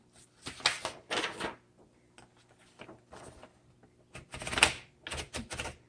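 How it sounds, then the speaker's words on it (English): Paper being fed into the roller of a 1960s Smith Corona Electra 110 electric typewriter: a few short, close clatters and rolling knob clicks in separate bursts, with quiet pauses between. "Put the paper in, just let it sit there, and then pull in the roller."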